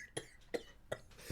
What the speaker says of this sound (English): I'm not coughing because I'm laughing. I'm just coughing.